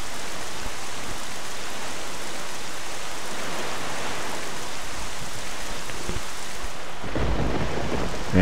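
Rain in The Legend of Zelda: The Wind Waker, a dense, steady downpour hiss filling the scene with a low rumble of thunder building near the end.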